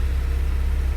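A Porsche 944 engine running on MicroSquirt fuel injection, idling with a steady low, even rumble throughout, close and continuous with no voices.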